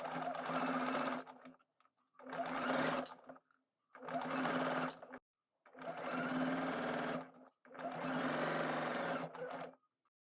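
A sewing machine stitches darts into a sequin top in five separate runs of a few seconds each, with brief quiet pauses between them, heard fairly softly and without talk.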